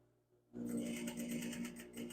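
A sewing machine top stitches along a shirt collar under repair, starting up abruptly after a short quiet moment and running in a fast, steady mechanical whir close by.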